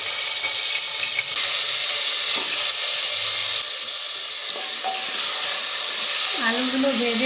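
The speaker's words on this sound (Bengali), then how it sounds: "আলুগুলো ভেজে নেব।" Potatoes fry in oil inside a pressure cooker, a steady loud sizzle and hiss filling the kitchen with a faint voice briefly underneath near the end.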